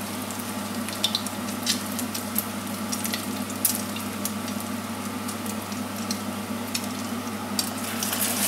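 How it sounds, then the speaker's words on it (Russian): Steady frying sizzle of meat-filled pancake pies in a pan, a continuous crackling hiss with scattered pops and spits, close and moderately loud, with no talking. "потом кладу сюда на сковороду жариться"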